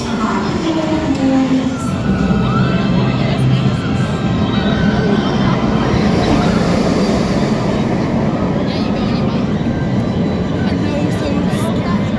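Galactica roller coaster at Alton Towers, a loud continuous rumbling roar of the ride running on its track with wind noise, and voices underneath.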